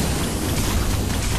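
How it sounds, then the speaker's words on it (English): Rocket blasts in the VR shooter Cyber Rebels, a dense, roaring rumble of explosions that stays loud and sustained throughout, with no talk over it. "Rockets."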